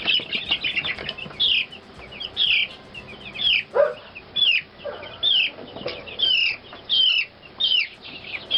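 Chickens cluck and squawk in repeated bursts close by, with a scuffle of wing flapping mixed in.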